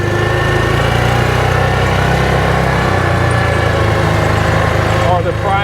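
A 2021 Axis 500 engine decelerating with a grinding noise, a loud, steady, rough mechanical drone with a harmonic hum throughout, close up, with a voice talking over it.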